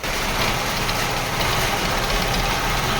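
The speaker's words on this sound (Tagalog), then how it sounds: "Pakinggan niyo ang andar ng makina parang gitugnaw, gihilantan o gitakigan." A Nissan Almera car engine idles loudly and continuously nearby, its running rough and shaky beneath a dense mechanical rumble, with no speech.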